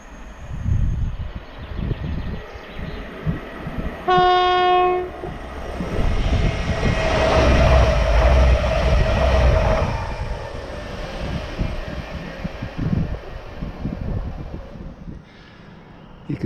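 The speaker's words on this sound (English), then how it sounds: "There's a Derby bound train heading into Chevin Tunnel." A Derby-bound train runs near a rock cutting at the mouth of Chevin Tunnel, sounding a clear multi-tone horn blast before its rumble swells loudly and fades as it passes into the tunnel.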